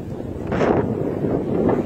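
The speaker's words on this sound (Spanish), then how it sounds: "Ahí se ve el viento." Strong wind roars across the sand dunes at Punta Gallinas in La Guajira, Colombia, a loud continuous rumble buffeting the microphone close up.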